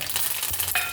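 Mustard seeds, cumin, asafoetida, curry leaves and sesame sizzling in hot oil for a tempering, a brief close crackling fry with a small spurt near the end.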